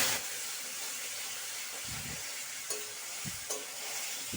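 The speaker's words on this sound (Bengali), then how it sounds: "আদার এই পেস্টটাকে ততক্ষণ পর্যন্ত কষতে হবে যতক্ষণ পর্যন্ত আদার কাঁচা গন্ধটা চলে না যায়" Ginger and red chilli paste, ground with plenty of water, sautéing in a hot pan for dum aloo: a steady broad sizzle and hiss, with a few soft stirring scrapes near the end and no voices.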